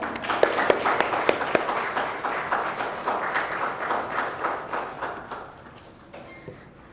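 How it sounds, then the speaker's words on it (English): A conference audience at a CSR conclave bursts into sustained applause, a dense crackle of many hands that holds steady and then tapers off near the end, with no talk. "A huge round of applause for all of them."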